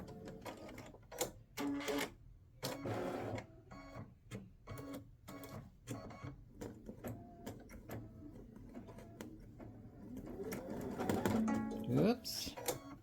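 A home embroidery machine stitches a greeting card design in bursts of rapid mechanical needle chatter, stopping and starting, with a rising whirring tone near the end and a person talking intermittently.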